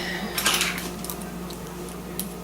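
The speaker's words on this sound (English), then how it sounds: "I want to get the blend stirred up here a little bit first" A spoon scrapes and clinks against a bowl while a spice blend of apple spice or cinnamon is stirred for a chunky apple cake, with a few bright metallic taps over a low steady hum.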